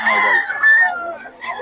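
A pure Golden Boy gamefowl rooster crows once, loud and close, at a bustling Bocaue market, a short hoarse call that fades out at the end.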